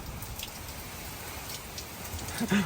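Soft, steady rain patters in the background, a faint continuous hiss of drops falling on surfaces.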